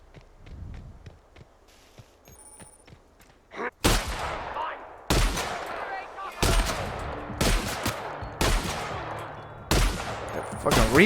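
Gunfire in The Outer Worlds: a few soft taps, then six loud bursts of rapid shots at steady intervals, each ringing off briefly, with the gun's recoil evident.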